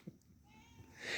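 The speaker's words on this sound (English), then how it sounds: "Let's go let Missy Cat in the house." A pet cat meows to be let into the house, one short cry near the start, followed by soft rustling and a rising hiss of outdoor noise toward the end.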